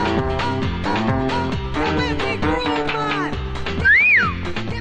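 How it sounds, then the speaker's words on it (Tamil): Sharp whistling sweeps up and down over a busy music score in a Tamil movie scene, one bright rising-and-falling whistle standing out near the end. "விசில் அடிக்கிற படுவா"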